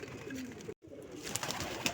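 Pigeons coo at a breeder's loft of pigeon breeds, with soft calls and chirps over a steady outdoor hum, briefly cut to silence midway, then busier bird sounds resume.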